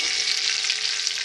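Curry leaves and dried chillies sauté in hot oil in a pan, giving a steady, close, loud hissing sizzle that holds evenly throughout with no talk.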